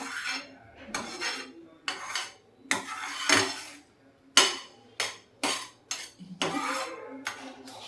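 A spoon scrapes and clinks against a pan while stirring almond halwa over low heat, in repeated sharp metallic strokes, close and fairly loud.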